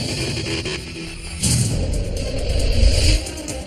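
Car engine revving hard during a high-speed police pursuit, rising surges of acceleration with road and wind roar, loudest in the second half before easing off.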